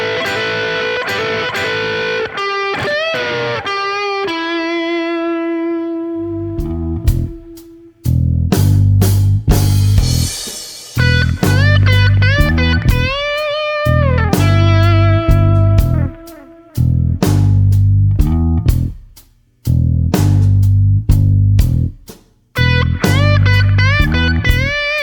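A Stratocaster electric guitar plays a gritty, overdriven classic rock lick alone, with sustained bent notes, quick phrases and repeated chopped rhythmic stabs separated by brief pauses, loud and close.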